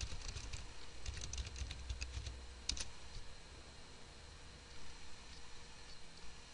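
Someone types on a computer keyboard, a quick run of soft key clicks followed by a few isolated taps, quiet and close with a faint background hiss.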